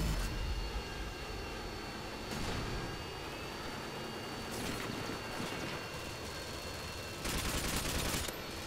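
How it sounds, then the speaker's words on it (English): A Harrier jet roars overhead in Modern Warfare 2 on the Scrapyard map during a Domination match, its engine a steady wash mixed with bursts of rapid gunfire, loud and close throughout. "Getting a few people trying to take out the Harrier there."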